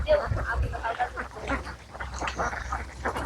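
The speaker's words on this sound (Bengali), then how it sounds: "দেখুন সেই হাঁসের খামারটি" Ducks on a duck farm quack in uneven clusters at moderate distance, their rasping calls mixing with a voice talking nearby.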